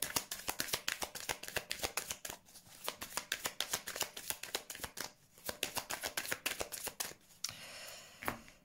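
Tarot cards being shuffled by hand for a reading, a close, steady run of crisp riffling flutters and soft slaps repeating for several seconds, with a brief pause and a final few card taps near the end.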